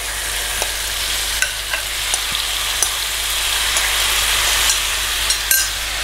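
Marinated chicken sizzles loudly in a pan with golden-browned garlic, with a spoon scraping and stirring at irregular moments over the constant frying hiss.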